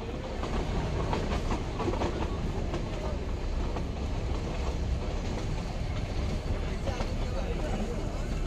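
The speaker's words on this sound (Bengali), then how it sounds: "তো দেখি টয় ট্রেনে করে যেতে কেমন লাগে।" A toy train runs from Udhagamandalam to Coonoor with a steady rumble and faint rhythmic clatter for several seconds, a voice talking faintly over it.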